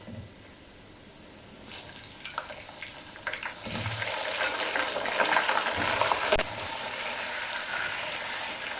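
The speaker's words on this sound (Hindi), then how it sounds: "चिकन डाल दिया। अब इसे 2 से 3 मिनट के लिए भूनेंगे।" Chicken pieces drop into golden fried onions in a pot for biryani and begin to sizzle, a steady hiss with some stirring and clatter that grows louder and busier as the frying goes on, with no voices.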